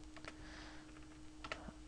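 Keystrokes on a computer keyboard as a MySQL login command is entered, a quick run of light clicks in two bursts, close and quiet over a steady electrical hum, no one speaking.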